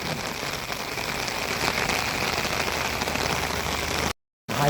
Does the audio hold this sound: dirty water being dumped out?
no